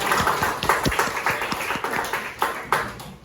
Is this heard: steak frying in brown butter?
no